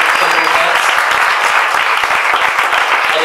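A church congregation applauding with steady, dense clapping that stays loud and even throughout, with faint voices mixed in.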